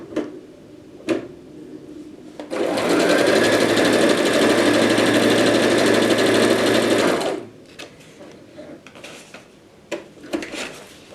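A sewing machine stitches through paper at a longer stitch length, running loud and steady for about five seconds, with handling clicks and thumps before and after.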